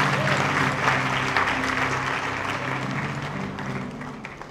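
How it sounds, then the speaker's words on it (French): A church congregation claps steadily in a broad wash of applause, moderately loud and fading gradually, with faint crowd murmur and no clear speech. "Acclame pour toi-même."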